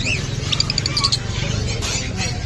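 Caged birds at the Bocaue pet market chirp and tweet in quick, high bursts over a steady murmur of market background noise.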